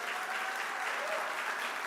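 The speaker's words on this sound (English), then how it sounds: "Raise your hands. Clap for them." Steady applause for scholarship recipients at a student awards event, a dense, even wash of clapping from an audience that holds for the whole stretch.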